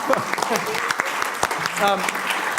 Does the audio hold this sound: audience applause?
yes